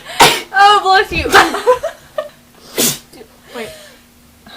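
A person sneezes several times in quick succession, loud and close, with short gasps and vocal sounds between the bursts and a brief spoken reaction.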